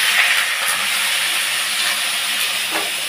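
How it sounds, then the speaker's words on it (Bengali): Potatoes hiss and sizzle as they hit hot mustard oil for jhinge alu posto, a steady, close, bright frying wash with faint crackles and no pauses. "তেলটা গরম হয়ে গেছে, এবার আমি এর মধ্যে আলুগুলো দিয়ে দিচ্ছি।"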